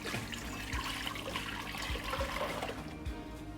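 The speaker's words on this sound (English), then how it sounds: "I'm going to pour in 6 cups of the white vinegar that's here." White vinegar pours steadily into a pot, a soft continuous splashing and trickling, quiet and close, with no voices.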